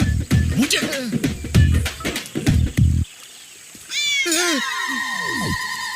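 A cat in a scene from a Hindi-dubbed South Indian action thriller film gives several loud, drawn-out meows up close. They come after a stretch of busy, clattering sound.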